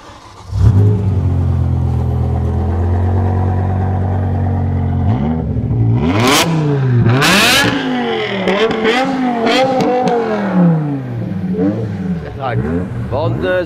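A 5-litre V10 sports car engine revs hard and loud nearby, climbing and falling in repeated sweeping bursts, with people talking over it.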